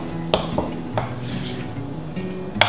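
A utensil mixing flour into homemade play dough in a bowl, close and fairly loud, with scraping strokes and a few sharp clinks against the bowl at irregular intervals.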